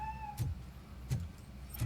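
A cat in the video game Robocop: Rogue City lets out three short, evenly spaced meows, moderately close and clear against a quiet background.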